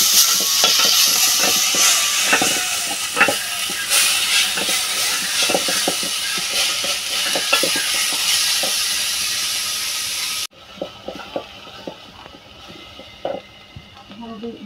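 Sliced onions sizzle in a pan over a village clay stove, a bright steady hiss with scattered crackles and clinks that suddenly drops away, leaving quieter intermittent taps.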